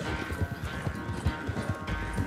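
Rapid, rhythmic hoofbeats of a horse galloping in a race in Red Dead Redemption 2, steady clip-clop thuds close by over a low rumble.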